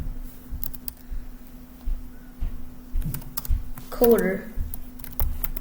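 Keys on a computer keyboard clack out a word in a short run of light clicks while a person speaks over and between the keystrokes.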